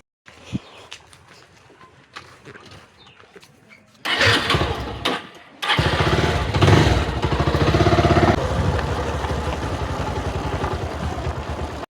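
A motorcycle engine cranks and fires into a loud idle in an outdoor setting. It settles into a steady, close running rumble, with faint background noise before it starts.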